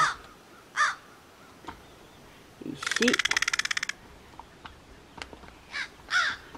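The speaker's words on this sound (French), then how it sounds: "On entend les corneilles." Crows caw in short, scattered bursts, some near and some farther off, with a rapid rattling series in the middle and a brief spoken word early on.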